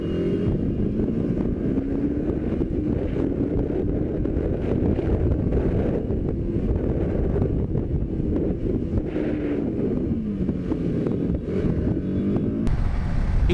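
A TVS Apache RR310 motorcycle rides along, carrying a pillion, with the engine drone buried under heavy, steady wind buffeting on the microphone, loud and continuous with no pauses.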